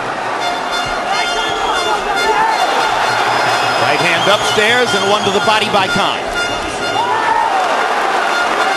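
A boxing arena crowd of Irish fans roars and cheers continuously, with horn toots and a loud swell in the middle, under an announcer's steady commentary.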